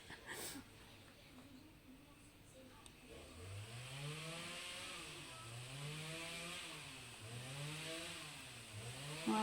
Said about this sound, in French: donc là vous entendez sans doute la tronçonneuse